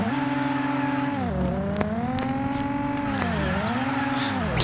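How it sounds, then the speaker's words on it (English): A Lada's engine revs and holds steady during drift practice, a sustained droning tone that dips and climbs again as the throttle shifts, with faint tire noise underneath and no speech. "Let's see if I can do some drift."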